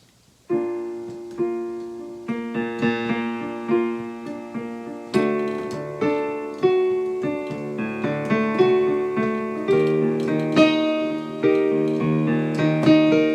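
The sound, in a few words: excerpt of a song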